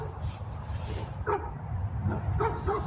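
Several dogs bark and yip at a man who has climbed about eight feet up a tree, sharp excited barks in irregular bursts over a rumbling background, fairly close.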